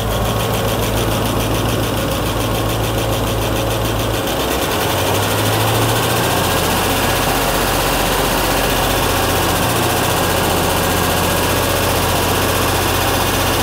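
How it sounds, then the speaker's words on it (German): A Mercedes SL55 AMG with the M113 supercharged V8, rebuilt with IRP pistons, idling steadily and loud up close with a faint hydraulic lifter tick, its tone shifting slightly partway through. "Aber der Motor selber läuft absolut schön."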